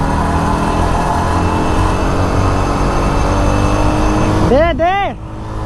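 Yamaha R15 V4 and Pulsar NS200 motorcycles in a rolling race, their engines droning loudly and steadily before a sharp rising rev near the end, with riders talking over the noise.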